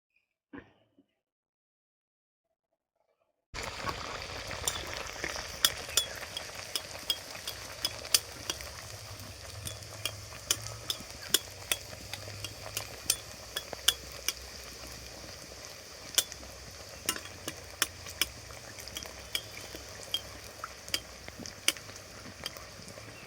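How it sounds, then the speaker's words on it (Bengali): Sago luchi, puffed flatbreads made from sago for a vegetarian fast-day meal, fry in hot oil with a steady crackling sizzle and faint stirring clicks that start after a quiet moment and carry on unbroken. "তেল গরম হয়ে গেছে, আমি এবার লুচিগুলো ভেজে নেব।"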